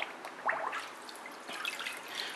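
Parts-cleaning fluid drains and drips out of a dirty engine part during an engine rebuild: a steady close trickle with scattered splashy drips.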